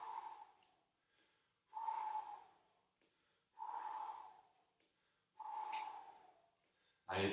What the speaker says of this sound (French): j'accentue vraiment la respiration, pardon, pour vous montrer à quel point c'est important de bien expirer